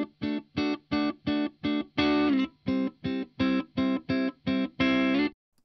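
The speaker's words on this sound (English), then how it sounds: "The actual sound of the guitar without this chain sounds like this." Clean, dry electric guitar chords from a Telecaster with no effects, strummed in a steady rhythm of about a dozen short, separated stabs, two of them held longer, close and fairly loud with nothing else in the background.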